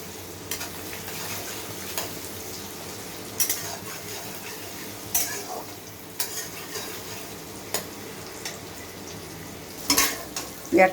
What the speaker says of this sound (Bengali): এই অবস্থায় আমি টমেটো কুচিটা দিয়ে দিলাম